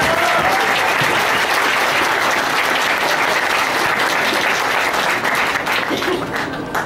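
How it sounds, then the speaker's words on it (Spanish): A large audience at a wrestling press conference applauds steadily, dense clapping filling the whole stretch and tapering slightly at the end. "hay que darles un aplauso que se los pido a todos ustedes"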